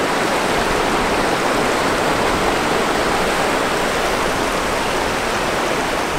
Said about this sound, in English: We're coming up on a big set of rapids up here.